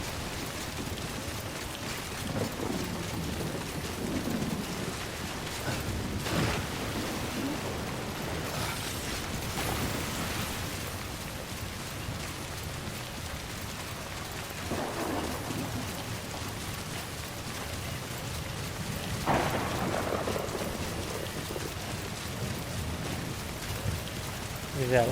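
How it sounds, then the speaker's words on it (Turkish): Stormy weather with steady rain in the video game Death Stranding, a continuous wash of rainfall and wind with a few louder gusts and rumbles, heard throughout under occasional talk. "Bu fırtına ne zaman ne zaman duracak acaba?"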